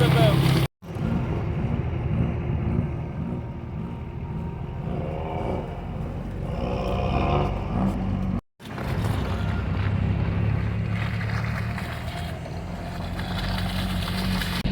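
A Ramcharger truck rock crawling in light snow, its engine droning steadily and loud close up throughout, with a couple of brief dropouts, and voices talking over it.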